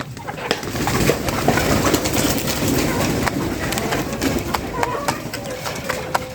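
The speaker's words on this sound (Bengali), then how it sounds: "দেখবেন কবুতরগুলো কীভাবে আসা খাবার সংগ্রহ করে" Fancy pigeons in a cage gathering feed, soft cooing and scattered wing flaps and pecking clicks close by, under someone talking throughout.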